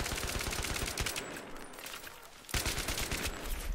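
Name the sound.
gunfire in the video game Battlefield 3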